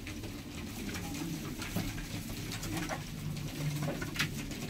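Breeder pigeons coo softly in a loft, with low repeated murmuring calls, faint flutters and light scuffling mixed into a continuous ambient hiss.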